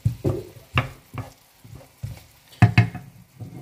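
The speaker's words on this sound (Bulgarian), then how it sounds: "Запържваме ги." Chopped carrots and onions frying in a pan, a series of short sizzling bursts and stirring scrapes in an irregular rhythm, close and fairly loud with quiet gaps between.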